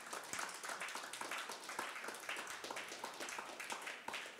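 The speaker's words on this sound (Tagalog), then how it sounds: "pumalakpak nga ng malakas" A church congregation claps loudly during a service, dense steady hand claps with sharp accents throughout, close and full.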